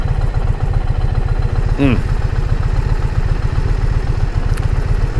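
Traffic outside the Nissan plant in Smyrna as workers let out, heard as a loud, steady idling engine with a rapid low thrum from close by and a brief rising whine partway through.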